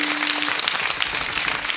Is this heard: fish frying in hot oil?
no